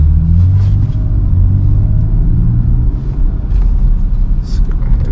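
A Lexus RX 350 SUV drives with a steady low engine rumble and road noise, rising slightly as it accelerates; heard from inside the cabin, close and continuous with no talk.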